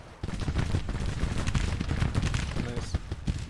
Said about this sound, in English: in the meantime, the cannons are doing their thing